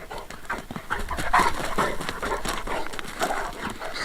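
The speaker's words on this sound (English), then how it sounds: "Come on, you crazy dog." An excited dog on a morning walk pants rapidly and trots along, with quick rhythmic breathing and footfalls close by and no talk.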